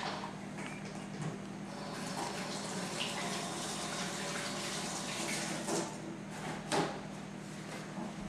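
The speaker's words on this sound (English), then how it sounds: "I'm just going to wash my hand quick and then we're going to get cooking." Water runs steadily from a kitchen tap as hands are washed under it, a constant moderate rush with small splashes and a brief clunk near the end.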